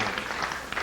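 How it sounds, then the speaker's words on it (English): Comedy club audience breaks into a brief burst of hand clapping, a short, dense patter of many hands heard from the crowd, fairly loud. "Clap your hands."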